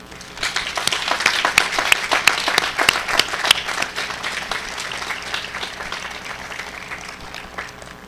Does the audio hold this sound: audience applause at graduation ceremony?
yes